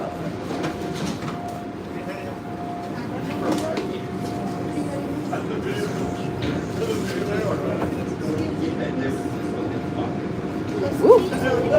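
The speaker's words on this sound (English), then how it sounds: "This is a Blue Line train to O'Hare." A Chicago Blue Line subway train bound for O'Hare pulls away from Monroe station, its steady rolling rumble and track clatter filling the car, loud and close, with a voice talking over it at times.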